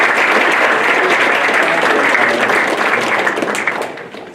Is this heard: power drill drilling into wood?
no